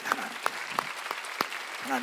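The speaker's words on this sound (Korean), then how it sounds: "하나님께 박수." Scattered claps ring out in a church service, a few distinct hand strikes spaced apart over a background murmur, with a voice briefly heard near the end.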